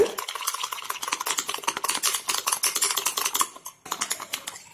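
Instant coffee being beaten by hand until creamy, a rapid, continuous run of close clicking spoon-against-cup strokes, briefly pausing near the end before resuming.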